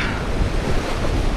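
Ocean waves wash against a harbour breakwater, a dense, loud roar of surf and spray mixed with heavy wind buffeting close to the microphone.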